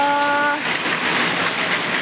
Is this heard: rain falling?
yes